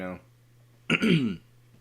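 A single short throat clearing, close and fairly loud, lasting under half a second, with a brief voice before it and a steady low hum under the rest.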